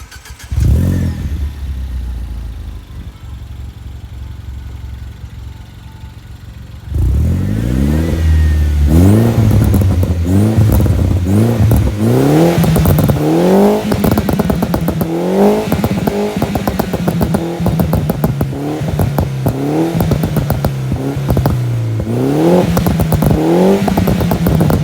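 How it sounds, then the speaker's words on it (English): An R56 Mini Cooper S JCW idles, then its exhaust roars through repeated loud revs, each blip rising and falling, with crackling pops and bangs between them, close and continuous. "the exhaust pops and bangs are awesome"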